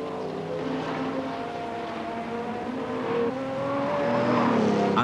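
Race cars at speed, including a Ford Capri, in the German racing championship: a droning, rising engine whine holds steady for five seconds and grows gradually louder as the cars approach.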